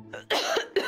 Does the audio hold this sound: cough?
yes